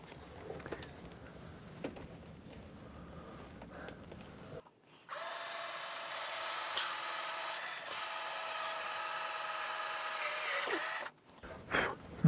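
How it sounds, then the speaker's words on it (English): Screws are driven into wood with a power drill to fix shelf supports on a model railroad, a long steady whirring run of several seconds after some quieter handling noises, ending in a short final burst. "and then we'll screw them in place"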